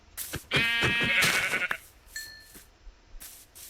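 A loud, drawn-out sheep bleat from Minecraft with a synthetic, game-like quality, followed by a few brief clicks and tones.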